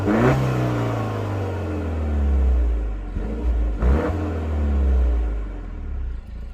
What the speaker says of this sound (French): maintenant on va passer au bruit du moteur